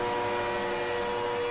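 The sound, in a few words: westbound freight auto rack train passing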